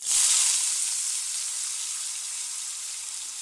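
Finely chopped peeled potatoes hit hot oil with curry leaves in a pan, giving a loud bright sizzle that bursts at the start and then settles into a steady, close frying hiss.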